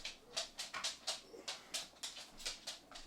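A dog's claws click on a hard floor as it walks around, a quick irregular series of about a dozen faint sharp taps in a quiet room.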